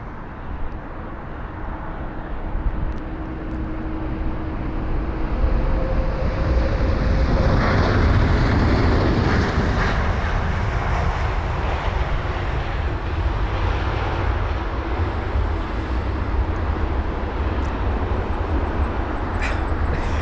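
A Sri Lankan Airlines airliner, flight UL505, landing at London Heathrow in windy conditions, its engine roar swelling to a broad, loud rush that holds steady, with wind buffeting the microphone.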